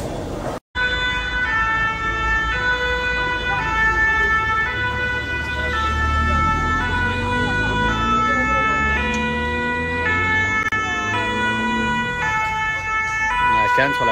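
Police and fire emergency vehicle sirens wailing on the Croisette in Cannes, loud and sustained with overlapping rising and falling tones from more than one vehicle, traffic rumbling underneath.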